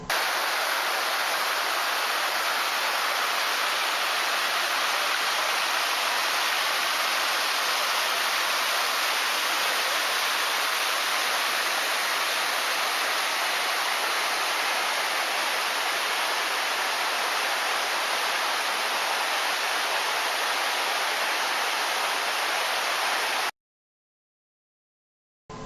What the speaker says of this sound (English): This water wheel drives a simple hammer that is used for pounding grain.